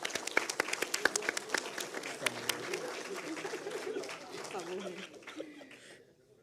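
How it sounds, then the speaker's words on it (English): An audience at an education day event claps for Dr. Yasmin, a dense round of applause with some laughter and voices mixed in, thinning out and fading near the end. "A round of applause to Dr. Yasmin."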